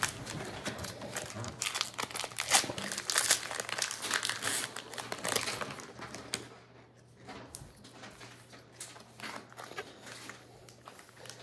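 A Pokémon 151 booster pack is torn open and its foil wrapper crinkled, a dense run of close, loud crackling and rustling that thins out into lighter handling noises over a steady low hum.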